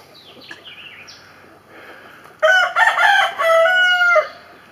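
A rooster, a young Americana, crows once loudly and close, a long ringing call lasting about two seconds after softer clucking and faint bird sounds.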